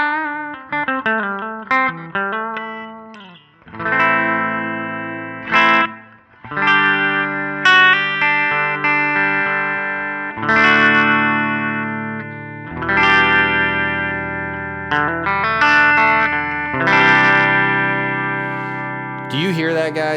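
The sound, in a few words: guitar through Line 6 Helix Jazz Rivet 120 amp, stock sound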